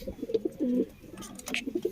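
Pigeons at a keeper's loft coo in a series of short, near pulses with a longer rolling coo, and a brief handling rustle breaks in midway.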